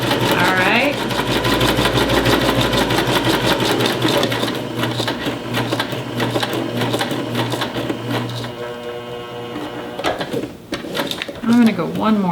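Domestic sewing machine running steadily through fabric, a loud rapid mechanical chatter close by, with a voice talking over it.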